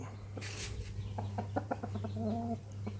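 A fighting rooster gives a quick run of short clucks close by, over a steady low electrical hum.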